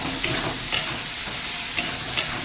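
Potatoes with spices sautéing in a pan, a soft continuous sizzle broken by four brief scraping stirs spaced about a second apart, close and moderately quiet with no voices.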